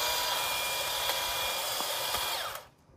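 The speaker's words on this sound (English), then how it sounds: "This is the hedge trimmer option. So I'll show you how it works." A cordless hedge trimmer runs continuously while cutting through branches, a loud close buzzing whine for nearly three seconds that cuts off abruptly at the end.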